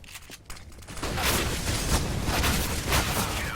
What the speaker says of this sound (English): it all came down to Taco hitting 3 ridiculous shots with the CZ up close and personal